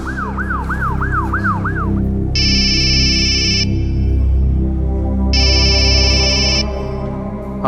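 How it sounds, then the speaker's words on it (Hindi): Loud ambulance siren heard from inside the vehicle, a fast warbling wail followed by alternating long steady electronic tones, continuous over a rumbling engine drone with no speech. "और ये पीछे शोर कैसा है? अरे वो मैं एम्बुलेंस में हूँ।"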